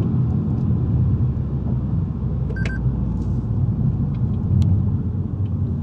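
A heavily modified car of about 700 horsepower carving around a corner, its engine a steady, loud low rumble throughout, with a brief electronic beep partway through and no talking.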